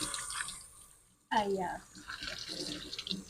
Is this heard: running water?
yes